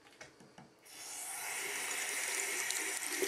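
Hot water begins gushing from a tap after a few light clicks and clatters, then runs in a steady, close hiss for several seconds while laptop keyboard keys wait to be soaked.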